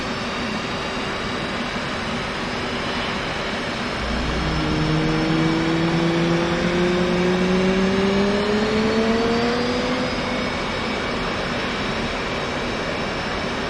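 F/A-18 engine starting up in the DCS flight simulator: a steady turbine whine and rumble, with tones that rise in pitch as the engine spools up and a louder swell midway.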